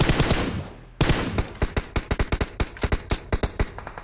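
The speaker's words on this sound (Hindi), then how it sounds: "अब राइट साइड से एक फायर आया था, जिससे कि मेरे टीममेट को थोड़ी गोलियां पड़ती हैं" Gunfire from the right side in the BGMI battle royale game: a sharp opening shot, then a rapid, uneven burst of loud, close automatic shots rattling on for several seconds.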